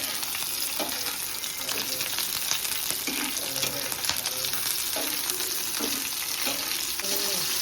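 Garlic and chili frying in hot oil for a fish fry, a steady loud sizzle with stirring and a few scraping clinks, continuous throughout without talk.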